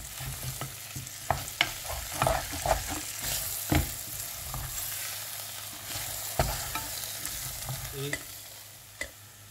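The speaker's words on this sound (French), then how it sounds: "Et maintenant, je vais rajouter du beurre, comme prévu." Butter and flour fry in a pan for osso buco, a low continuous sizzle broken by frequent stirring scrapes and clinks of a utensil against the pan.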